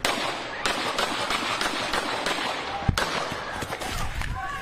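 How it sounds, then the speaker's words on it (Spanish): Gunshots outside the Caguas courthouse investigation room in Puerto Rico, a rapid series of sharp cracks at an irregular rhythm with one louder blast near the end, over a noisy background. "Estos disparos acabaron con la tranquilidad que imperaba en las afueras de la sala de investigaciones del Tribunal de Caguas."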